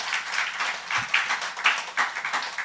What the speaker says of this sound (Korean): 우리 감사의 박수 한번 다시 한번 보내드리겠습니다